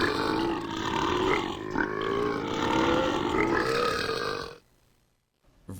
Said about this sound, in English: Ah yes, the Burp Music Creator game.